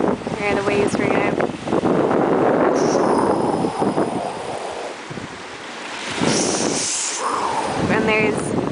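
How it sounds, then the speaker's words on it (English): Ocean surf washing onto a beach, with steady wind buffeting the microphone throughout and a person talking over the waves at several points. "Here are the waves for now."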